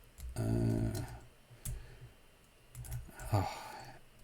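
Computer keyboard typing during a live coding stream on Node-RED software: a few soft clicks in short bursts, close and quiet, with a faint sigh or breath at one point.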